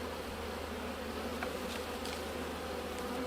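A dense, steady hum of bees at a beehive that a beekeeper is inspecting before winter, loud and continuous throughout with a few brief higher buzzes passing close.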